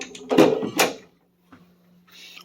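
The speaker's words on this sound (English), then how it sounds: "Sliding door, push down, slide over." An RV sliding door in a 2020 Legacy 34A is pushed down and slid across, giving two close, loud rattling thumps followed by a fainter click and a soft scraping slide.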